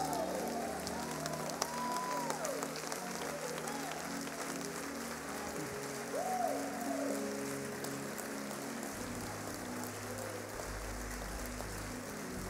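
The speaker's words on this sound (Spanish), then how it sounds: "Mientras sigue aplaudiendo" A church congregation applauds in a long, even patter of clapping, moderately distant, with faint tonal sounds and a low hum running beneath.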